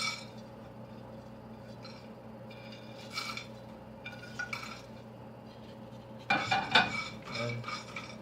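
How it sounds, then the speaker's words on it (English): Biryani spices dry roasting in a pan over a medium flame, with a steady low hum under scattered scraping and clinking of a spoon against the pan that grows busier and louder near the end. "And just keep stirring it for like 4 to 5 minutes. Just dry roast."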